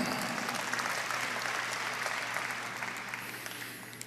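Church congregation applauding during an Indonesian sermon, a dense, even roar of many hands clapping at once, steady and then slowly fading.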